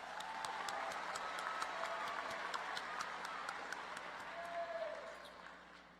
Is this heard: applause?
yes